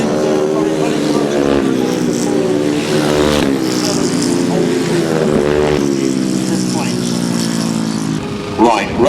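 Grasstrack sidecar motorcycles racing at speed, loud sustained engines surging and dropping as they cut round the outside and back inside, with a commentator talking over them.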